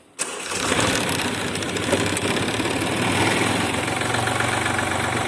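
A Japanese mini tractor with a rotary tiller cranks and fires up after a brief quiet start, then settles into a steady, close, loud idle with a faint knocking rhythm and no talk over it.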